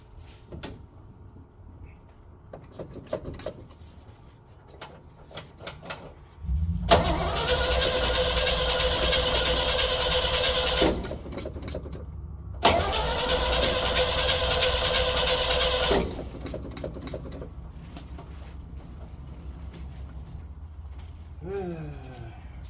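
A 1964 Chevrolet Suburban engine cranks in two long bursts of whirring starter noise, each lasting several seconds, without catching, with quieter clicks and shuffling before, between and after.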